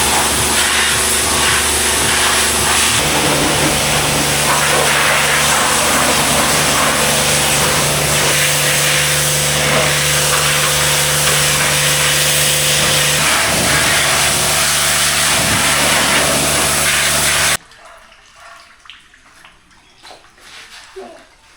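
Car being foam washed and under washed at a garage wash bay, a loud steady rush of pressurised water spray with an engine-like hum beneath, cutting off abruptly near the end to quiet background.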